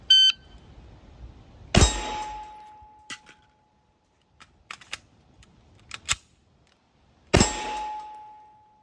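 Two sharp pistol shots land about five and a half seconds apart during a reload drill, each followed by a ringing metallic tone. Quiet clicks and clatter from the magazine drop and reload fall between them.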